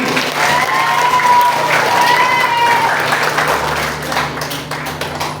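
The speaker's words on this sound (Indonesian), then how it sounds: "Tepuk tangan lagi." Sustained audience applause with some cheering at a sixth-grade farewell ceremony at an Indonesian elementary school, steady and loud throughout, with faint voices and a sustained tone mixed in.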